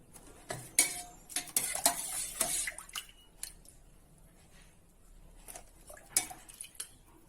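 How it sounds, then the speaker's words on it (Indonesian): Broth ladled over slices of white bread and young coconut for a sweet pis kopyor dessert, heard as soft liquid drips and splashes with light clinks of a ladle against a dish, close and fairly quiet with no talking. "Baru tuangkan kuahnya."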